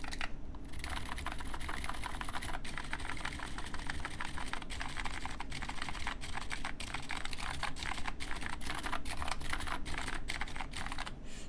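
Continuous typing on a CannonKeys CK980C mechanical keyboard fitted with 45 gram DynaCap switches, a dense steady patter of close keystrokes with occasional sharper, louder clacks and some rattle, with no voices.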